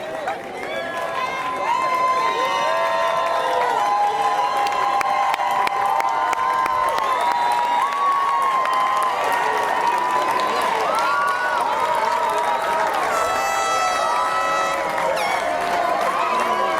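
A crowd at a graduation gives steady loud applause and cheering for the class of 2019, with shouts and whoops rising over sustained clapping for the whole stretch.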